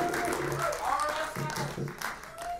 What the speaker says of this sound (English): So big round of applause for the sound crew.